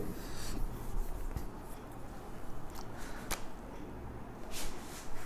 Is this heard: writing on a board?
yes